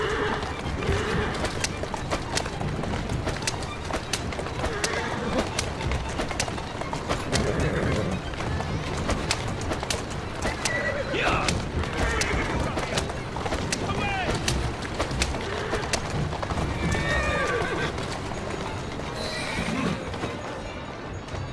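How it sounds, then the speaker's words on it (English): Horse hooves clip-clop and a horse neighs in the video game Assassin's Creed Syndicate, set against busy game ambience with birds and a voice speaking at times. "Who's a good horse? You are."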